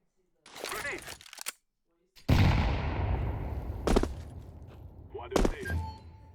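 A grenade detonates in a video game map: a loud, broad blast with a long rumbling tail, followed by a few sharper cracks and thuds, with short bursts of game noise just before.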